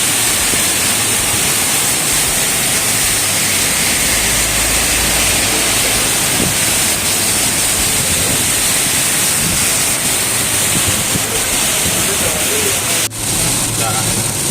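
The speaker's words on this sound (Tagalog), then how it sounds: "Grabe, ang lakas ng ulan." Heavy rain roars steadily and close by on a flooded street, a thick constant hiss, with a brief sharp knock near the end.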